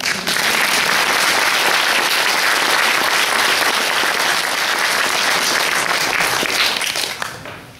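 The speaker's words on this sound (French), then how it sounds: "Et on les applaudit" Sustained audience applause fills the space, dense and loud, with many hands clapping continuously before tapering off at the very end.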